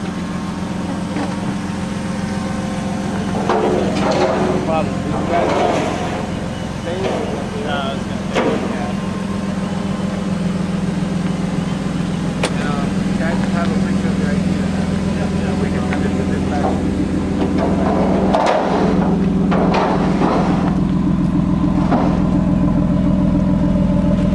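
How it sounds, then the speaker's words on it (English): A stock turbocharged Toyota Supra with a quarter million miles holds a loud, sustained engine drone during a burnout, with voices talking and calling out over it. "Give us a little burnout real quick."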